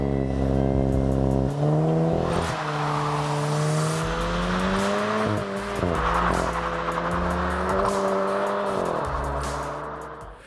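BMW 218 M Sport Gran Coupe with a 1.5-liter turbocharged three-cylinder engine, revving and driving with rising and falling engine pitch, a loud, close sound with no talk.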